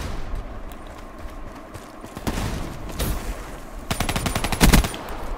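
Video game gunfire crackles in rapid bursts, with dense automatic volleys building toward the end over a busy in-game background, no speech during the shots.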